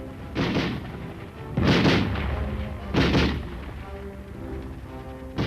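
Heavy booming gunfire from bazooka and BAR rifle during Korean War combat training in 1953, three big reverberant blasts spaced a second or so apart over a rumbling, dull old-film background.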